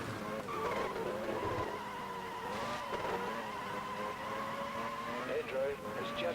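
Race car tyres squealing and skidding in the F1 Career Challenge video game, heard from the cockpit view with engine sound muted; long sliding screeches rise and fall across the clip while a voice talks over them.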